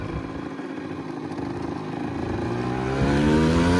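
A small 50cc motorcycle engine gets a quick throttle blip while downshifting, its buzzing note climbing in pitch and loudness near the end, close and without talk.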